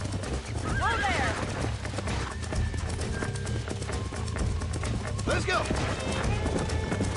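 Horse hooves clip-clop at a steady gallop in Red Dead Redemption, close and rhythmic, with a brief whinny and people talking over the hoofbeats.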